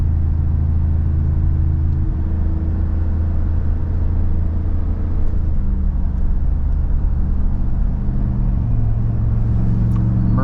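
A 2023 Ford F250 Super Duty pickup towing a load and downshifting to slow, heard from inside as a steady low engine rumble and drone with shifting tonal layers, without talk.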